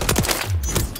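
Dense gunfire in a Modern Warfare 3 match plays as a rapid, continuous rattle of shots and clatter, loud and busy throughout the short burst, with no voices over it.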